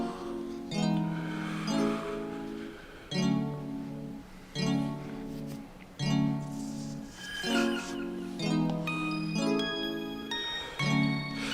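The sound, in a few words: Purity VST Space Dreams synth preset demo, spacey ethereal sounds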